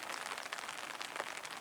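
Rain falling outdoors near bushes and trees, a steady, even hiss of drops pattering on surfaces, close and continuous with no voices.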